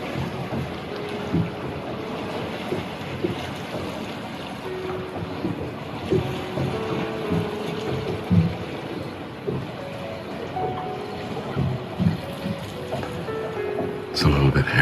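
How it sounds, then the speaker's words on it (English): A boat rocks at dusk while water laps and sloshes against nearby rocks, with steady wind rumble and a voice talking over the scene. "listening to the sounds of the boat and the water on the nearby rocks"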